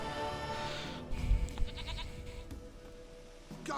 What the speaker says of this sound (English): Brought his damn goat back,